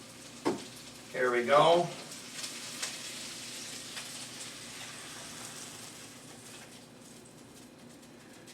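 Onions fry in olive oil in a pan, a soft, steady sizzle that stays faint throughout, with a brief spoken phrase and a short burst of louder sound near the start.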